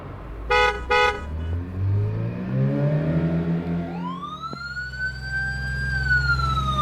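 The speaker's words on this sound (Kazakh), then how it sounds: "Жедел жәрдем көлігі." A cartoon ambulance sounds two quick horn toots, then a siren that sweeps upward and holds a rising wail, loud and close with an engine hum beneath.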